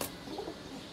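Pigeons coo softly at close range, a brief low murmuring call under faint background hiss.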